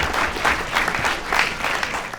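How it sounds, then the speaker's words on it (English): Audience applause from a crowd of about 500 students at a personal branding talk in LA, sustained clapping with a few swells, heard close and alone. "Give him a round of applause."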